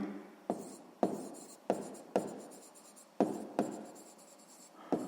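Pen strokes on paper during a sixth-grade math lesson, a series of short scratching bursts with sharp onsets at irregular intervals, quiet and close, with no voices.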